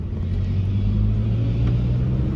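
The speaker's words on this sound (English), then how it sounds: "I'm just going to put the car into 4-wheel drive" A car shifted into four-wheel drive on a hunting outing, its engine giving a steady, close low rumble that holds an even level throughout with no talking.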